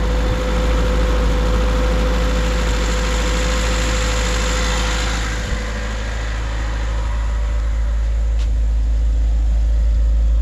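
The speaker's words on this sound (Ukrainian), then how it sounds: "Дивіться, як робить моторчик." A VAZ 2106 car engine idles steadily for the whole stretch, a loud, even low rumble with a constant hum and no voices.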